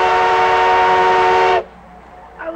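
A steam train whistle blows one long, loud, steady blast as the train departs, then cuts off sharply, leaving quiet background with a faint sound near the end.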